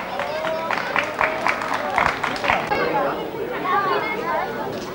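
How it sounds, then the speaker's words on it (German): Spectators at a 1998 go-kart race in Poysdorf give a scattered burst of clapping mixed with loud crowd chatter and shouting, the claps irregular and moderately close. "Und Applaus für die zwei"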